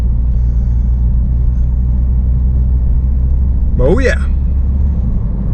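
A car out riding around on the road gives a steady, close engine rumble with low road drone throughout, and a voice briefly speaks over it near the end.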